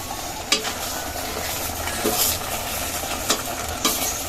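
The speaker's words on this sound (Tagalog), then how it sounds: "At para may pagkulo, hahaluin ko." Fish and vegetables simmer and sizzle in a pot of coconut milk while a spoon stirs, with a steady bubbling hiss and a few sharp scrapes against the pot, close and alone.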